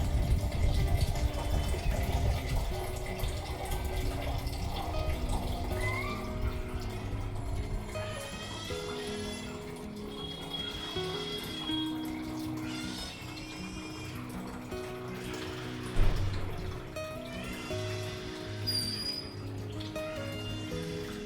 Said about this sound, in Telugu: ఇంకా ఇందులో వాటర్ అయితే ఫిల్ చేస్తున్నాను అనమాట